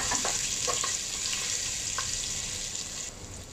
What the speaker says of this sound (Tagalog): unahin natin guys nilagay yung ginger or loya